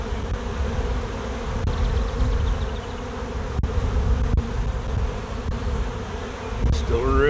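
A hive of honey bees, one colony having swarmed, gives a thick, continuous buzzing hum up close, steady and loud with a few faint knocks.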